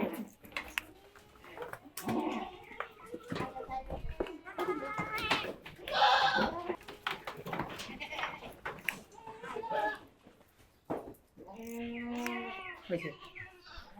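Goats bleat on a farm where animals are being dosed with PPR vaccine, several short wavering calls spread through the clip amid ongoing speech and handling noise.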